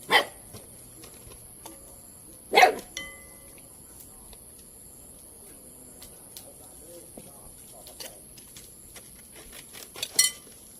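A dog barking in a village lane, three short barks spaced several seconds apart, fairly distant and faint against a quiet background with a few small clinks.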